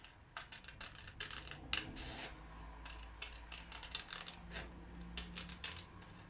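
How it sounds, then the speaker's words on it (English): Large scissors cut through card in a string of quiet, crisp snips and rustles, with small irregular pauses between cuts. "I'll use my bigger scissors for this bit."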